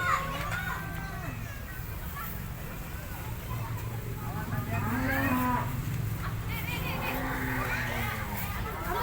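Several low, drawn-out moos from sacrificial cows being fed rise and fall close by, with children's voices and chatter in the background.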